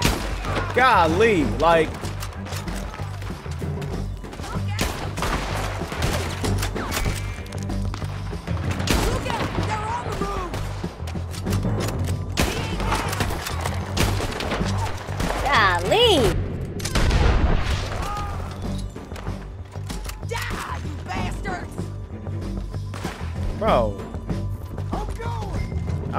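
Repeated gunshots crack through a shootout in Red Dead Redemption 2, bursts scattered across the scene with booms and impacts, while a player talks over much of it.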